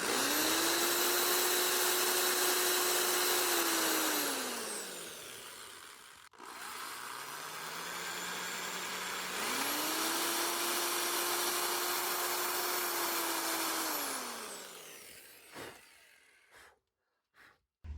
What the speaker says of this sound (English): Gently drill this hole here.